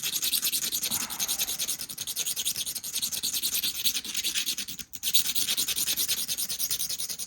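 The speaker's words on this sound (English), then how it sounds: "So we'll diamond grind it." A diamond tool grinds steadily against a flint stone point, giving a continuous harsh rasping scrape with a rhythmic pulse and one brief pause near the end.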